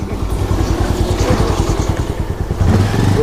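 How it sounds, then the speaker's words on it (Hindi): Motorcycles ride at speed along a mountain track in Spiti Valley, their engines droning loud and close with a steady rapid pulsing throb, and a slight rise in intensity near the end. "और ये हमारे राइडर जो है 100 की स्पीड से चलते हैं।"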